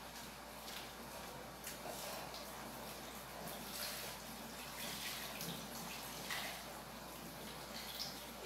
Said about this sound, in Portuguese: Pegar água torneiral mesmo.